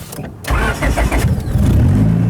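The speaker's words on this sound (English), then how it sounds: "the car will start right up" A Turbo Civic's engine, started by push button, cranks and catches, then settles into a loud, steady idle close by.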